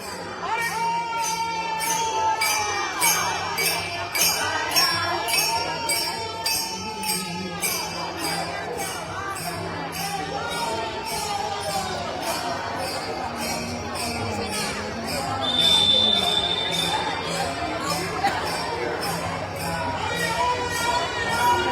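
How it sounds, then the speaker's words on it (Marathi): A large crowd gathers at a ward 21 election campaign rally backing an independent candidate, with a constant dense babble of many voices and shouts, some cheering and children's cries, and a few tonal sounds heard now and then. "मोठी गर्दी या ठिकाणी"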